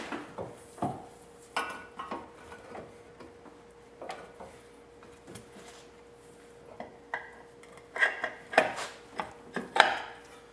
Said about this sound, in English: we're just going to take this shaft and slide it through the bearing again